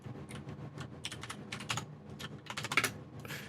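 Typing on a computer keyboard while entering a Linux bash command, a quiet, close run of quick, uneven key clicks and taps with no talking.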